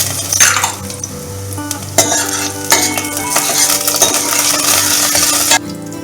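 Dry urad dal lentils tumble into a metal vessel for perugu vada batter, a loud rattling, clinking pour lasting several seconds before stopping abruptly.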